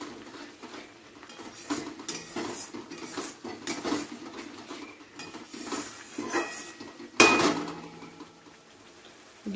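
Metal spoon scraping and clinking against a pan while chicken kosha gravy is stirred with a little added water, steady close clatter with one sharper knock near the end.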